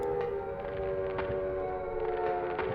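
Air-raid sirens wailing in the horror video game Silent Hill, a sustained droning tone with faint periodic clanks and a muffled low rumble underneath, loud and continuous with no talk.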